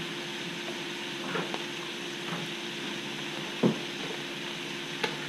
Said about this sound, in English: I'm gonna stir the cabbage in